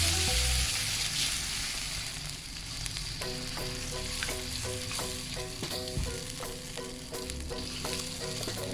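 Continuous sizzling and bubbling as water is added to a hot frying pan for spicy fried potato sambal, with light stirring clinks throughout, moderately close.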